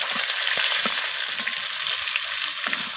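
Bhetki fish heads fry in oil with bay leaves, a loud, close, even crackling sizzle with occasional light stirring clicks.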